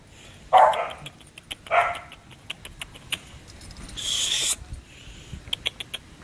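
A dog out on a walk lets out a few short, loud barks close by, spaced over several seconds, with a brief burst of higher hiss and scattered small outdoor sounds between them.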